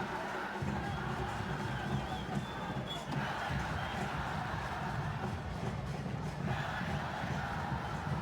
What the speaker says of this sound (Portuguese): Torcedor colorado cantando, agitando, se agitando nas arquibancadas.